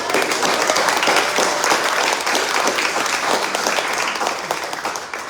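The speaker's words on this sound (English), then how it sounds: "Y'all give them a round of applause." A round of applause from the audience at a chamber of commerce gathering honoring departing members, sustained thick clapping from many hands that stays strong for several seconds before easing slightly at the end, with no speech.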